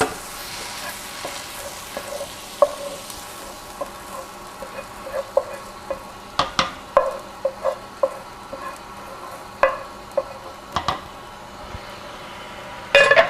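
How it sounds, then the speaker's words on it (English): Sautéed onion and peppers being stirred into pasta sauce produce repeated soft spoon scrapes and clinks against the pot over a faint sizzle, close and unhurried. "And now I'll mix it in."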